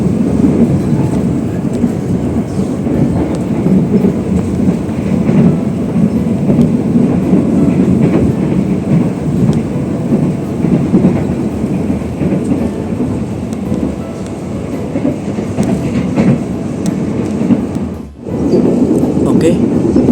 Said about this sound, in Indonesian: Kita berpapasan dengan kereta api apa ini, dengan kereta api Kamandaka ya kan, Kamandaka Cilacap.